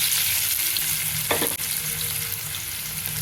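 Chopped onions and green chillies sizzle steadily in hot oil in a kadai, a constant bright frying hiss with a brief scrape of stirring in the middle, close and alone.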